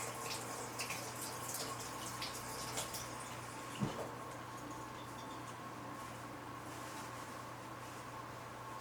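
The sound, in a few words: water running from the sink tap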